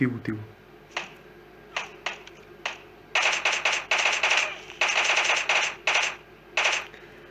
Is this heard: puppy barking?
no